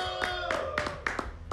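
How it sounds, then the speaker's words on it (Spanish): A few sharp, separate hand claps ring out in a Desvelados TV studio, about half a dozen spaced irregularly over a second and a half above a steady tonal hum. "Fuerte el aplauso."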